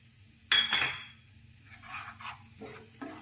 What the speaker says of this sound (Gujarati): ગેસની ફ્લેમ પર તેને સારી રીતે આપણે શેકીશું